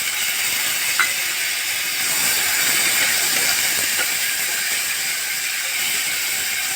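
Green peas and tomato frying in a pan give off a loud, steady, close sizzling hiss that holds evenly throughout, with no voices.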